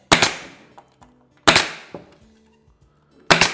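A pin nailer fires pins into the back of a ready-to-assemble cabinet: three sharp, loud snapping shots about 1.5 seconds apart, each followed by a brief rattle, with quiet between them.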